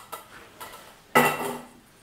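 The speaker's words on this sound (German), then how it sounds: "So, jetzt geht die Pfanne hier wieder zurück an ihren Platz." Frying pan set back down on a stove in a home kitchen while cooking bacon, a couple of light clinks followed by one sharper metallic clatter, close and alone.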